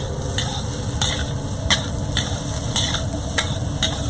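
Sausage stir-frying in a pan, with a close steady sizzle and regular scraping strokes of a utensil about every half second.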